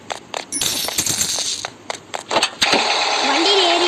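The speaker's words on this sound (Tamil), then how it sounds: "இங்கே இருக்கிற காசுலாம் எடுத்துக்கலாம், அப்போ தேவைப்படும்." Coins chime in quick bursts as they are collected in a Spider-Man video game, bright clinks over continuous game background noise and engine-like hum.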